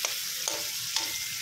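Garlic fries in hot oil for pancit with a steady, close sizzle, and a few soft stirring scrapes sound through it.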